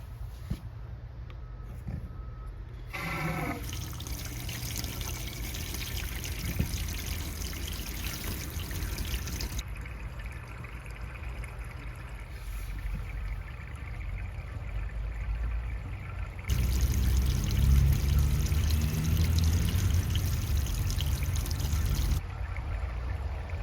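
Water pours and trickles steadily into a new freshwater tank being fitted in a trailer, a low continuous rushing that grows fuller and louder in the later stretch before easing off, with no talking.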